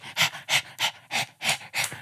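A person imitates a panting dog with quick, breathy huffs, about six evenly spaced pants in two seconds, close to the microphone and fairly quiet, with no other sound.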